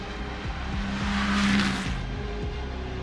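Race car engine roaring through gear changes in WEC qualifying at the Imola circuit, a loud continuous drone with rising pitch sweeps and a brief surge of broadband noise near the middle.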